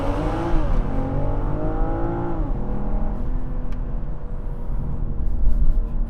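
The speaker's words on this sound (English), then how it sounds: "I can press the brake all the way, put the gas all the way down" A 2021 BMW M440i xDrive Coupe launches hard, its engine roaring loud and close as the revs climb, drop at a gear change and climb again through steady acceleration.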